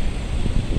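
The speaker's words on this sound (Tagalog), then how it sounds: "Mahangin." Wind gusts buffet the microphone outdoors beside a parking area, producing a loud, close, continuous rumbling roar for under a second with no voices.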